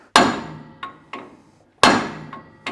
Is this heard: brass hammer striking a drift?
yes